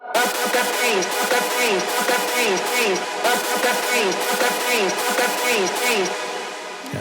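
A hardstyle synth lead from a remix drop rings out loud and bright, hammering a steady run of rhythmic pitch-bending stabs for about seven seconds with no voice.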